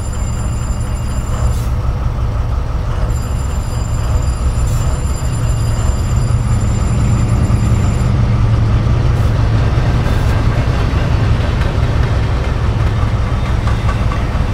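Continuous heavy rumble of a simulated train engine running in reverse in Train Simulator 2017, loud and steady, with faint high whines early on and a brief air-brake-like hiss.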